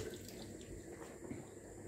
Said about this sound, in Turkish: Ellerimi yıkayıp devam edelim.